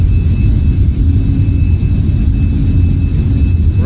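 Rumbling roar of a Boeing 747 accelerating down the runway in Microsoft Flight Simulator 2020, a loud, steady, low engine drone with a thin high whine above it and no talking.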